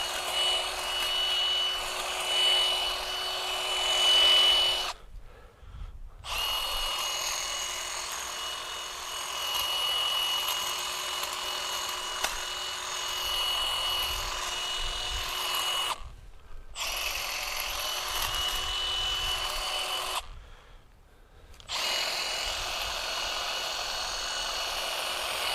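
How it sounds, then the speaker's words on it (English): Milwaukee M12 FUEL 8-inch cordless hedge trimmer cutting small azalea limbs, a steady high motor whine with buzzing blades, broken by a few brief stops, close and fairly loud. "So very sharp blades that are cutting these smaller limbs with no problem at all."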